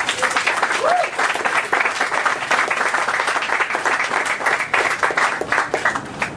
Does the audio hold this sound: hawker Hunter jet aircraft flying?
no